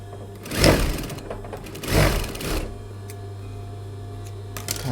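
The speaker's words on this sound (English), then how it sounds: "we just want to stitch those pieces in place" A sewing machine stitching pinned fabric pieces in two short whirring runs with a pause between them, then a low steady hum continuing underneath, close and fairly loud.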